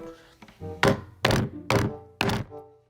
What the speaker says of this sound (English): you just switch the switch this way for